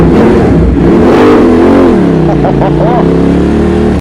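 A Ducati Monster motorcycle revs inside a road tunnel, a loud, continuous engine roar rising and falling in pitch that fills the echoing space for several seconds.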